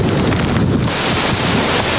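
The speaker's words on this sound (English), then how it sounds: "they said the wind blew 120 miles an hour, with gusts to 140" Hurricane Andrew's winds at about 120 mph with gusts to 140, a loud, dense, unbroken roaring rush of wind buffeting the microphone, with no talk.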